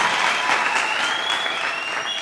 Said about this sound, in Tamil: அட்சயாவுக்கு ஒரு பெரிய கைதட்டு கொடுங்க